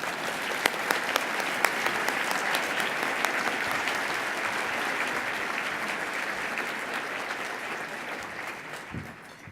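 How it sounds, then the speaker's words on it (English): Sustained audience applause fills a room at an annual legal aid meeting, dense steady clapping from many hands lasting several seconds before tapering off at the end. "Let's give him a round of applause again"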